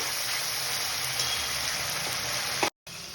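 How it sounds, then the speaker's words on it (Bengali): Tomato paste and ginger sautéing in a pan for a green banana kofta curry, a dense, even frying hiss close to the microphone with a momentary cut near the end. "এবার টমেটো আর আদাটা একটু কষিয়ে নেব প্রথমে।"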